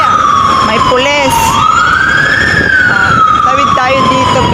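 A loud police siren wails close by on a busy street in Jordan, Hong Kong, its pitch sweeping up and down over traffic noise.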